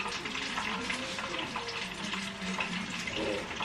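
Lechon pork sizzles and crackles steadily in hot oil, a dense, close frying hiss with popping bubbles and no talk.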